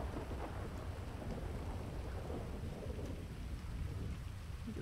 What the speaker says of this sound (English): A good old thunderstorm.